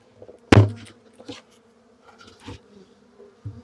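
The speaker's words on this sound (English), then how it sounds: "I'm going to go ahead and shake these bees down." Honey bees hum softly and steadily close by during an early-spring hive inspection, with a sharp thump as a frame is knocked to shake bees off, followed by a few lighter knocks.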